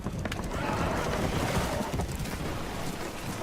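Spooked horses whinny and stamp aboard a boat taking on water in Red Dead Redemption 2, a dense, continuous wash of neighing and clattering over sloshing water and creaking hull, loud and close throughout.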